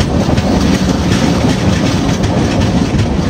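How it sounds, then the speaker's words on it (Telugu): A train, the Tirumala Express departing Srikalahasti station, rolls steadily along the rails, loud and close, with a continuous rumble and faint rhythmic clatter throughout. "శ్రీకాళహస్తి స్టేషన్ నుంచి ట్రైన్ స్టార్ట్ అయింది"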